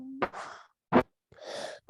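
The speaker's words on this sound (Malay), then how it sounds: "Bersin kat situ." A single sharp sneeze bursts out abruptly amid breathy vocal sounds during a child's Quran recitation session, close and loud, then quiet.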